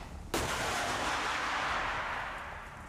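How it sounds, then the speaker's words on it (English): An anti-tank missile launches with a sudden sharp blast, and a loud broad roar follows that fades slowly over a few seconds, heard at a distance in a combat setting. "The operator is firing a missile."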